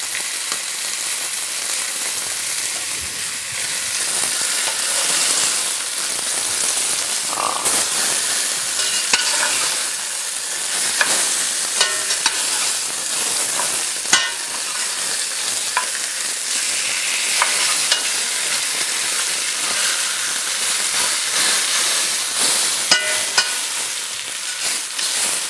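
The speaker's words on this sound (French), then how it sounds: "vin blanc, on en profitera pour le faire réduire un petit peu le vin blanc, hein, laisser s'échapper toutes les vapeurs" White wine reducing and sizzling in an osso buco pan, a dense, steady hiss of frying and bubbling that runs the whole time, close and loud, with a few faint utensil taps and scrapes.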